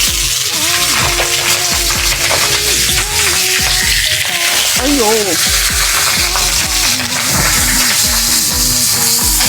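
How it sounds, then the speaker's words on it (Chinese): Golden pompano frying in an oiled, salted pan over medium-high heat, a steady close sizzle running the whole time beneath continuous talk and a brief exclamation. "咱给它开一个中大火来煎一煎这鱼啊"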